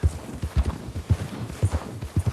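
Horse hooves beat in a fast, steady galloping rhythm in Red Dead Redemption 2, close and moderately loud, repeated thuds over a noisy outdoor backdrop.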